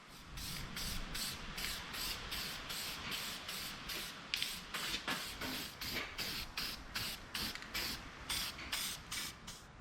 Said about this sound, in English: I'm going to throw in some Steel It weldable paint where the channel is going